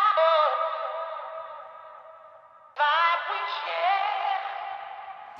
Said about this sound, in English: some distortion, delay, EQ and some reverb.